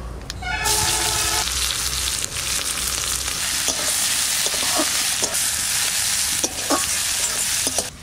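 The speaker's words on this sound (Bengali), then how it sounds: "তেলের মধ্যে দিচ্ছি 3টে শুকনো লঙ্কা, একটু কালো জিরা ফোড়ন, মাছটা" Catla fish frying in hot oil in a home kitchen, with dried red chilies and black cumin tempering: a loud, steady, dense sizzle throughout, with occasional stirring clinks and scrapes.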